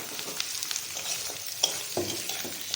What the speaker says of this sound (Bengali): এবার ক্যাপসিকাম দিয়ে নাড়াতে থাকলাম